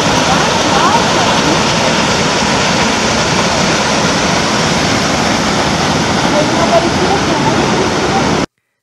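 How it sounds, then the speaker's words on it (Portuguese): Steady, full roar of the Simão Correa waterfall in Chapada dos Veadeiros crashing into a deep pool, broadband and continuous from start to finish, close and loud. "outra cachoeira média com poço bem fundo"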